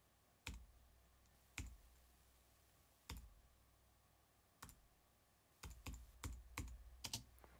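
Single computer keyboard keys are pressed in a quiet room to trigger sound shortcuts, giving sharp isolated clicks at first, then a quicker run of taps near the end.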